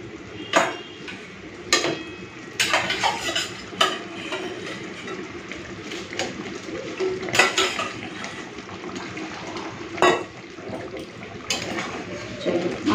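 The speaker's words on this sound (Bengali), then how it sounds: "এরপরে দিয়ে দেবো ভেজে রাখা মাছ।" Fried katla fish pieces going into a simmering coconut-milk malaikari gravy in a pan, with scattered utensil clinks and clatters over a low bubbling background.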